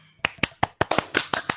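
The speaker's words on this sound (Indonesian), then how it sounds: "Tepuk tangan untuk kelompok 1." A classroom of teachers in training claps for the first presentation group in a short burst of sharp, rhythmic hand claps, fairly close and uneven, with no talking.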